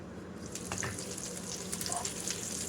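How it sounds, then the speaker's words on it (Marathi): Marinated chicken pieces frying in a pan until golden on both sides, for Dubai-style iffa chicken, give a steady, close crackling sizzle with small spitting pops throughout. "हे आपण दोन्ही साईडने गोल्डनिश होईपर्यंत फ्राय करून घ्यायचं आहे"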